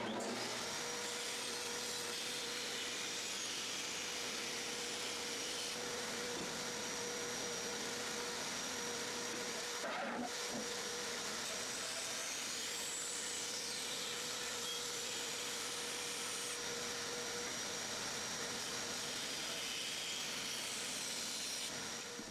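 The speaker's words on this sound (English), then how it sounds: "Cut that out on the bandsaw too." A bandsaw cuts the angled back piece of a wooden Christmas sled, giving a steady, loud whirring drone that runs unbroken the whole time, with one brief dip midway and no voices.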